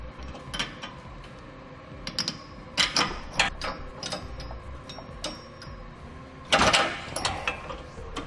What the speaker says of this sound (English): We're just snugging these bolts down right now